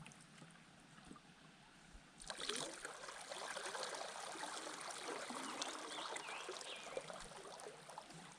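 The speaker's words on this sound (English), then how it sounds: "you'll see that there is a little stream flowing in" A little stream trickles into a reservoir cove, a soft, steady running-water wash that grows fuller after a couple of seconds and continues without a break, with no voices.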